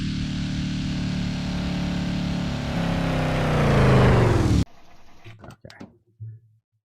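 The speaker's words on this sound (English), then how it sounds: "Work on those engine sounds a little bit." A Mustang engine in the Route 66 Simulator video game revs loudly and steadily, its pitch climbing over several seconds before cutting off abruptly, followed by a few short, quieter bursts with a voice speaking.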